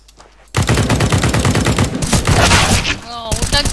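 Rapid automatic gunfire from a round of CS:GO, loud and close, starting abruptly after a quiet moment and running as a dense rattling burst for about three seconds, with a few scattered shots and game effects trailing at the end.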